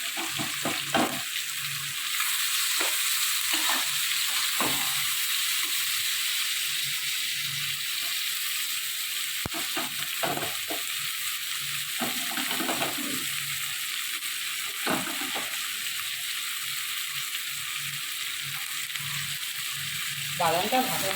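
Nuts, onion and green chilli fry in a pan with a continuous loud sizzle, broken by stirring scrapes and clatters. Occasional soft speech sounds run underneath.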